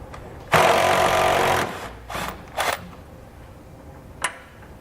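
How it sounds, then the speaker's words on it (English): A 3/4 inch socket driven onto a bolt during a fifth wheel installation kit fitting on a Ram truck, one loud buzzing power-tool burst followed by two shorter bursts and a brief final tap. "grab a 3/4 inch socket, drive it in, and you see that it draws the bolt down"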